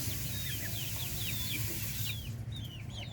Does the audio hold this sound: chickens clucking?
yes